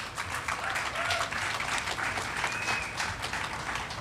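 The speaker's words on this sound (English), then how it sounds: "I'll give them a round of applause" Audience applause at an ADA Day public facilities event, steady moderate clapping from a crowd throughout, with a faint voice or tone briefly over it.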